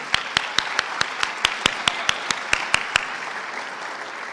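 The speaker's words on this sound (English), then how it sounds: "You deserve a great round of applause right now." Sharp, evenly spaced claps ring out over a low hiss at an education rally at a state Capitol, about a dozen in a steady rhythm before fading into quiet.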